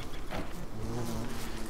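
Bees swarm around a beehive in Don't Starve Together, a steady droning buzz that holds for the full stretch at moderate level, without voices over it.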